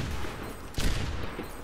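Rapid gunfire in Overwatch's aim training mode, a dense burst of shots with one louder crack near the middle, fairly close and with no talking.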